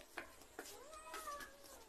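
A cat meows in several short, wavering cries, fairly close but quiet, over a faint background hiss.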